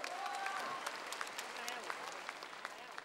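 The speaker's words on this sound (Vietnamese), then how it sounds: "Một tràng pháo tay đồng nhiệt cho hai bạn, thưa quý vị." Audience applause at a televised dance competition gala final, a steady wash of clapping from a large crowd throughout, with a host speaking over it.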